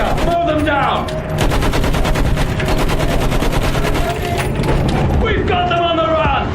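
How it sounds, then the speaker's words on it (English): Rapid machine gun fire rattles in long sustained bursts in Battlefield 1 during a World War I trench assault, loud and close, with shouted voices over and around it. "Use that machine gun! Mow them down!"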